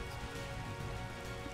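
Steady rain falls in the Minecraft video game, a dense, even hiss that stays faint and unbroken throughout with no other sounds.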